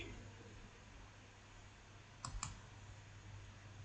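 Two quick computer mouse clicks about a fifth of a second apart, faint against a steady low hiss while mapping software is worked on a computer.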